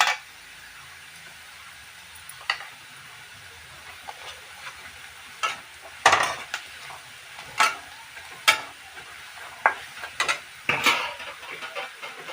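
Garlic, potato and onion frying together with a pinch of turmeric, a quiet sizzle broken by a dozen sharp spatula strokes against the pan, irregular and close.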